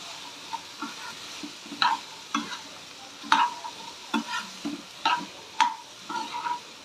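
A spoon scrapes and taps in a pan as carrot and moong dal poriyal is stirred, with about a dozen soft irregular knocks over a quiet, faint sizzle.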